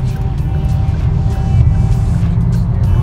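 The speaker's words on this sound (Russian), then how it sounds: "Вот посмотрим, как Geely 511 быстро набирает скорость." Interior drone of a Geely FY11 car accelerating hard on the road, a loud, steady low engine and road rumble heard from inside the cabin throughout.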